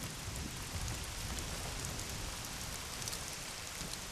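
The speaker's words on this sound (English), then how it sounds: "it's raining relentlessly for days" Heavy, relentless rain pours steadily in the Mala Fatra mountains, a dense even hiss of drops on surfaces that fills the whole stretch without pause, with no voices.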